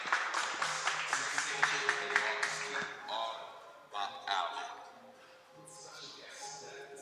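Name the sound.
audience applause for a speaker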